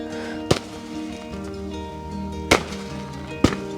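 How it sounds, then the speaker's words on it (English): Three sharp knocks, sudden hard impacts of falling pine cones striking at a campsite, spaced irregularly against a quiet outdoor background. "I've been dodging pine cones all morning"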